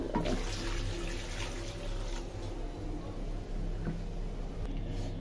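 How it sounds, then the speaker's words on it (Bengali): Water for the gravy is poured into a pot of slow-cooked desi (country) chicken curry, a steady close rush of liquid running for several seconds without pause. "ঝোলের পানিটা দিয়ে দিছি"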